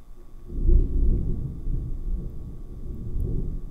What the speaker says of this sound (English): oh, y'all hear that thunder?